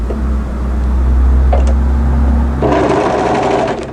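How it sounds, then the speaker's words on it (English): Sewing machine stitching dress fabric, a loud steady close motor whir running throughout, shifting to a higher, faster tone near the end, with no talk. "just sew some stitches to hold that into place"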